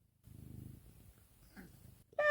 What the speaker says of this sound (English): Can you meow louder?